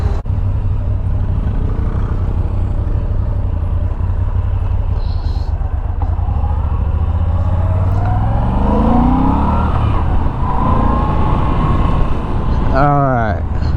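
A Moto Guzzi V7 Special motorcycle's engine drones steadily on a demo ride, with rising and falling revs as it accelerates and shifts, close and loud over wind noise, with a brief voice near the end.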